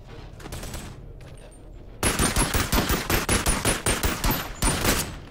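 Rapid automatic gunfire in the VR shooter Boneworks, with sparse shots at first and then a dense, loud, sustained burst of machine-gun-like fire.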